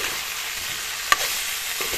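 Cauliflower and potato pieces fry in hot oil in a pan with a steady, close sizzle and one sharp utensil clink partway through.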